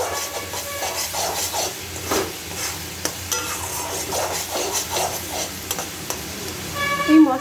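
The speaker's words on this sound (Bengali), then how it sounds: "আমার রান্নাটা মশলা কষানো হয়ে এসছে" Spices sizzle and crackle steadily in hot oil in a pan while frying for a duck egg curry, with occasional stirring scrapes and no voices.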